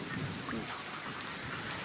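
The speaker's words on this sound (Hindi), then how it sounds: "काफ़ी दिनों के बाद गंगानगर की बारिश देखने को मिली है मुझे" Steady rain falls in Ganganagar, a dense even hiss of drops hitting surfaces, moderately loud and unbroken, with one sharp drip standing out.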